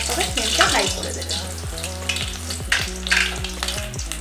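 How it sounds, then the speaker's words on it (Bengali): Chicken pakora pieces fry in hot oil over a low-to-medium gas flame, giving a steady loud bubbling sizzle with occasional crackles and pops. No voices are present. "এবার আমি এটাকে লো না মিডিয়াম টু লো ফ্লেমে ফ্রাই করে নেবো"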